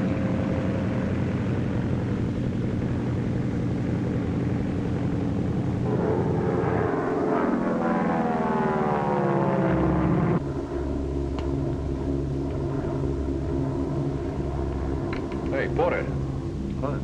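A propeller-driven charter plane drones through its flight in an old 1946 film. The engine makes a steady, loud, continuous hum that shifts in pitch partway through, and people talk over it.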